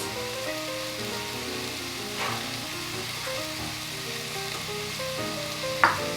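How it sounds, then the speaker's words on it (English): Potatoes sizzling in a pan as the filling for a chicken pot pie cooks, a steady close frying crackle with a faint background melody and one sharp clink near the end, without talking. "now I'm going to cook this for about 5 minutes until the potatoes are nice and tender"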